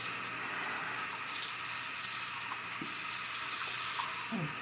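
Water runs into a sink as compression socks are hand washed with soft soap, a steady quiet trickle and splash with occasional small squelches and drips.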